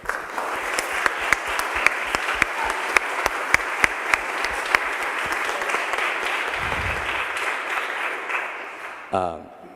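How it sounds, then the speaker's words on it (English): Sustained applause from an audience at an Eagle Scout court of honor, honoring the adult leaders; dense steady clapping with a few sharper individual claps standing out, continuing for nearly the whole stretch before a brief faint voice near the end. "if we could just have a round of applause for all the adult leaders"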